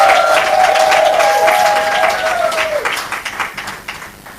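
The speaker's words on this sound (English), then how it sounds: "A hand clap for her" An audience at a book launch gives a burst of hand-clapping applause that is loud at first and then thins into scattered claps. A voice speaks over the opening seconds.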